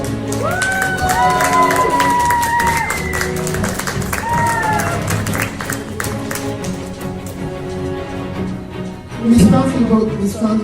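Audience at a trans pageant grand final claps and cheers loudly with shouts over stage music with sliding tones, swelling again near the end.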